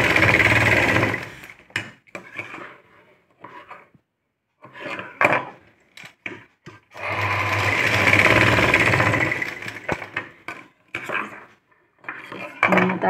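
Sewing machine stitching a blouse neckline runs in bursts of rapid mechanical chatter, loud and close, stopping and starting between short pauses, with no talk.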